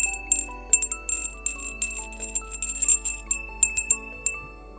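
Bell number two ringing, a series of bright metallic tinkling strikes with sustained ringing tones, close and fairly loud over a low steady hum, no voices.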